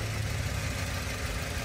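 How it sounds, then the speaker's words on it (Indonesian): A Toyota Avanza engine idles with a low, even hum. The sound is steady and fairly quiet and carries on without change. "Ini mesinnya masih hidup"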